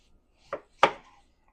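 Knife cutting through green tomatoes on a board, two crisp slices in close succession, the second louder and sharper, with no talk.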